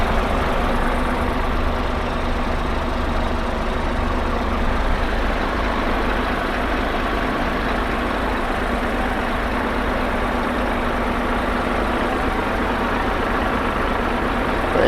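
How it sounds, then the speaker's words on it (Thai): A heavy diesel engine in an Isuzu FVM 300 ten-wheel crane truck idles steadily and close by, a continuous low rumble with no voices over it. "รถเครื่องยนต์นะครับสมบูรณ์นะครับ เดินเรียบๆนะครับ"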